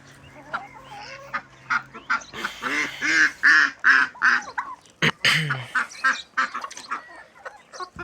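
A brooding duck calls near a flock of fowl, giving a series of loud, rasping honks and quacks in a steady burst that builds in the middle, close by and not overlaid by speech.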